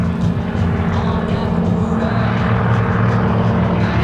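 A single-engine Ag Cat biplane flies at an air show, its loud propeller and engine drone holding steady and continuous throughout, with a busy low rumble and no pause.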